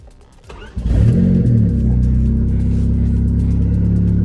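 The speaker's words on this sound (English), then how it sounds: "the first thing I'm gonna do is fire up the car" A turbocharged Honda Civic engine cranks briefly, catches and fires, then settles into a loud, steady idle close by.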